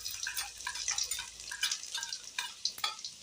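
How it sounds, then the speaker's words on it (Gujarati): Tempering of mustard seeds, cumin and asafoetida with chopped garlic in hot oil, a close, busy sizzle with popping crackles that rise and fall over a few seconds, no voices. "વઘાર સારી રીતે સકળાઈ જાય એટલે લસણની કળીનું કટિંગ કરેલું છે તેને એડ કરી દેશું"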